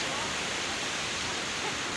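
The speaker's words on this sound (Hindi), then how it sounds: "ये देखें जनाब, समंदर की लहरें 10-10, 15-15 फुट ऊंची आती हैं" Sea waves up to ten or fifteen feet high rolling in and breaking on the shore, heard as a steady broadband wash of surf with no clear individual crashes.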